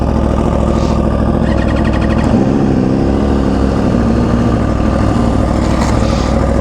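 A loud MV Agusta Rush motorcycle exhaust idles close by with a deep, steady, throaty rumble, and its tone shifts slightly midway.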